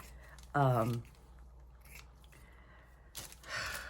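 Scissors snip through dried cheesecloth in a couple of short, crisp cuts close by, separated by quiet pauses, with a faint breath or murmur from someone nearby.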